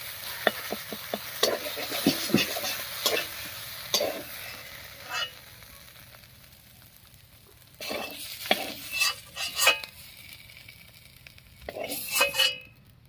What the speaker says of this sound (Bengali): দেখুন কড়াইয়ের মধ্যে লাগা লাগা হয়ে যাচ্ছে এবার নাড়িয়ে নিয়েছি